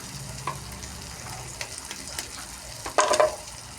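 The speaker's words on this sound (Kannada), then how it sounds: "ಈಗ ಮೊಟ್ಟೆ ಹೊಡೆದು ಹಾಕೋತಾ ಇದ್ದೀನಿ." Beaten eggs hit hot oil with tomato and turmeric for egg bhurji, giving a steady close sizzle with scattered stirring scrapes and a louder burst of frying near the end.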